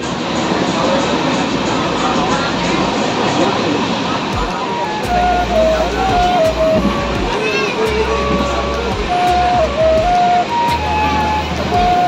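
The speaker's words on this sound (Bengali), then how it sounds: "এই মুহূর্তে আমাদের ট্রেন শক্তিগড় স্টেশন ছেড়ে আরও সামনের দিকে এগিয়ে যাচ্ছে" A passenger train pulling out of Shaktigarh station in West Bengal, heard from inside a carriage: a steady loud rumble and rattle of the wheels and coach runs throughout, with horn-like tonal notes over it in the second half.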